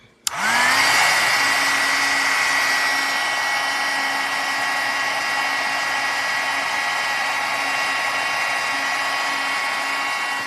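A heat embossing tool whirs to life abruptly and holds a steady, loud, high-pitched blowing whine for about ten seconds, with no talking.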